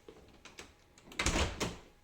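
A uPVC door fitted with a restrictor swings open to its stop and closes, giving a few soft knocks and clunks, then a louder thud and rattle as it catches.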